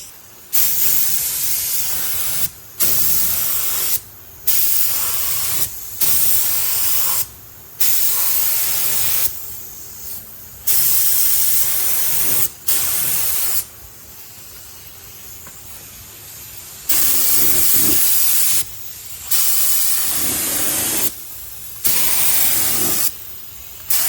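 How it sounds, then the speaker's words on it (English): A spray gun shooting primer onto a Jeep Grand Wagoneer body outdoors in cold, windy weather, heard as loud, steady hissing bursts of a few seconds each, separated by brief silent pauses, repeated throughout. "we're gonna shoot primer in the wind"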